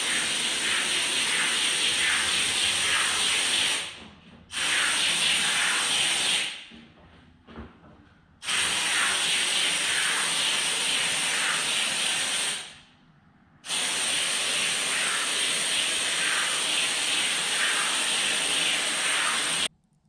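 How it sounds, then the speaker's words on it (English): Vega Bond spray foam insulation hisses loudly from a foam gun in long continuous bursts, separated by short silent pauses as the trigger is released. "Here is our first primary coat. It went on pretty evenly."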